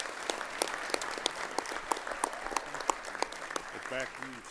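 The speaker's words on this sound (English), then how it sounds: "Give all of our Quiz Bowl teams one last round of applause" Applause from the audience at a national 4-H livestock judging awards event as quiz bowl teams are recognised, a steady round of clapping with some chatter underneath.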